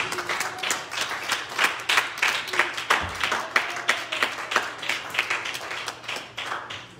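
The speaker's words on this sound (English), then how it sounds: "Clap your hands unto the Lord." A church congregation clapping their hands together during a sermon, a steady, fairly loud and dense run of claps that carries on throughout, with no talking over it.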